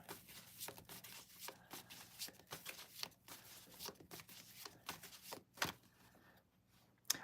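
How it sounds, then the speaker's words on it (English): A deck of reading cards is shuffled by hand, with quiet, irregular riffling bursts and soft taps repeating for several seconds, close but low in level, with no talking. "I'll pull a card for you."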